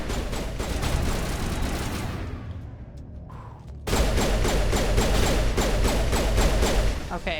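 Rapid gunfire in Mass Effect Legendary Edition as turrets are shot down, loud repeated shots and bursts with a brief lull midway before the firing resumes dense and steady.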